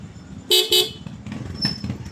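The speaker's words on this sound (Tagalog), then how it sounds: "Busina." Two short, bright beeps from a Honda Zoomer X motor scooter's twin horn sound up close, followed by an engine idling.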